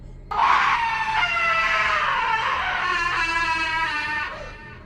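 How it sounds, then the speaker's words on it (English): A high-pitched, blood-curdling scream rings out in the wilderness, one long harmonic wail that starts abruptly and holds loud and strained for several seconds before fading. "a second scream was let loose with even more force than the first"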